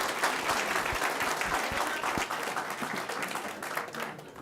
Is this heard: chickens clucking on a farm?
no